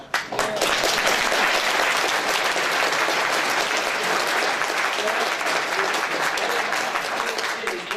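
Loud, dense clapping from an audience at a schools planning meeting, sustained and close for several seconds before tapering off slightly at the end.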